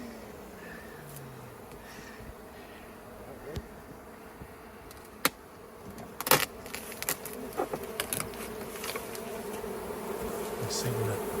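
Steady buzzing of many honey bees hums throughout during a hive removal from a house, with occasional sharp clicks and knocks from nearby work.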